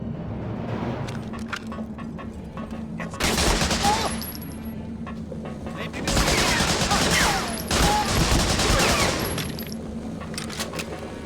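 MP40 submachine gun fire in the video game Medal of Honor: Frontline, heard as several bursts of rapid automatic shots in two main volleys with scattered single cracks, loud and close against background game sounds.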